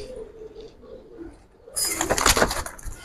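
Giribaj pigeons coo in a loft, a soft low cooing early on, then a sudden bright burst of fluttering and rustling takes over in the second half.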